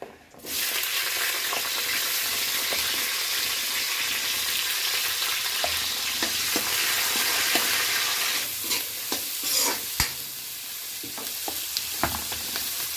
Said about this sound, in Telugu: దాంట్లో ఏదో విధిగా మనం పోపు ఎట్లా వేసుకుంటాం అట్లా